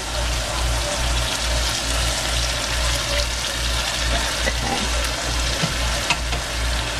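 Pan of hotdog chili with water and three bouillon cubes added, giving a steady, close hiss of bubbling and sizzling that continues evenly throughout.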